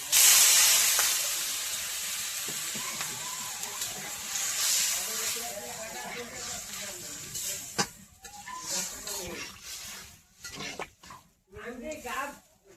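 A loud hiss bursts up at the start as water hits a hot pan, then slowly fades into a simmering crackle while people talk nearby.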